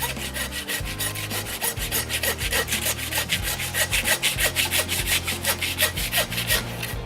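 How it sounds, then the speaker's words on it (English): A hand saw cuts through a Wagyu beef carcass toward the top of the blade bone, its steady back-and-forth rasping strokes close and loud, with no talking. "So we're just going to start sawing to the top of the blade bone."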